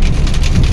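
Heavy afternoon rain in Buntharik district drums on a car's glass, a loud, dense patter of drops with a steady roar and no voices.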